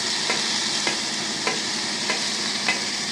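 Tomatoes are added to green peas and vegetables frying for oats upma. A spoon scrapes and stirs in a regular rhythm, roughly every half second, over a constant close sizzle.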